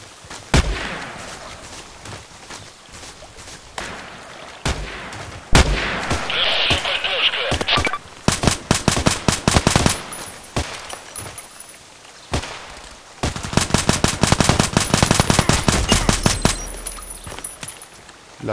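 Repeated shotgun blasts from an IZH-43 double-barrel in the shooter game Contract Wars, loud sharp reports in irregular clusters with a dense rapid volley near the end, over steady ambient game noise.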